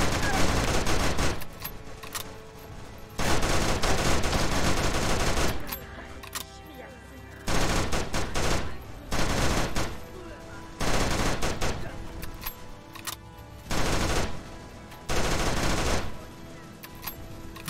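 Bursts of rapid automatic gunfire from a World War II anime-style video game, several loud sustained volleys separated by short pauses, with a voice talking over the quieter gaps.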